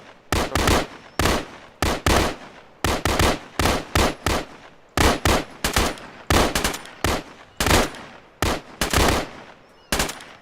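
Gunfire from counter-ambush training comes in loud, close bursts of rapid automatic shots, a dozen or so volleys separated by short pauses.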